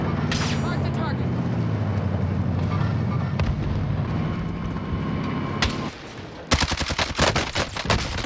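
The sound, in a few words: gunfire in the video game Call of Duty Warzone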